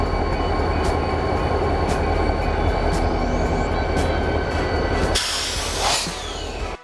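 A BNSF SD40-2 diesel locomotive rumbles past nearby in Kansas City's Argentine Yard, with a steady loud drone and rolling rail noise, and a sudden hissing burst toward the end.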